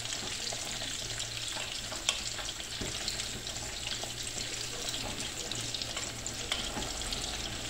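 Potatoes and pancetta coated in flour fry in a pan while being stirred, a dense continuous sizzle with light scraping and occasional clicks, close and steady, no voices.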